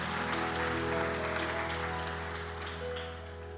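A church congregation claps in a sustained, diffuse wash of applause over a droning organ or keyboard pad, fading slightly near the end.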